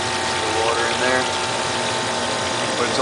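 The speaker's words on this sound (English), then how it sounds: "Cooling tower system." An old 2008 HVAC cooling tower system runs with water, giving a steady, loud pumping and gushing drone that stays constant throughout, with a voice faintly present.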